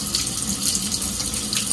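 Water runs from a kitchen tap into a sink during cooking, a steady close hissing splash with no pauses.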